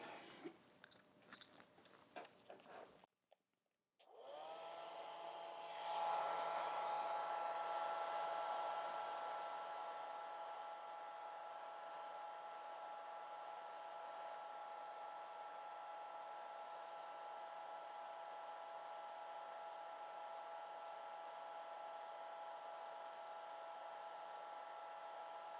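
A hair dryer dries a watercolor hummingbird painting. A few brief handling sounds come first, then a steady, loud, close whir runs on alone.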